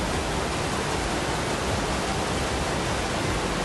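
Steady, loud broadband rush of a waterfall in the Roblox game Build a Boat for Treasure, a continuous even roar with no talk over it.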